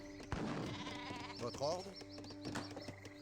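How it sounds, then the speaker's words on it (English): Marco Polo sheep in Age of Empires 3 bleat once, a wavering cry in mid-clip, set against soft game ambience and a faint hum. "Marco Polo sheep."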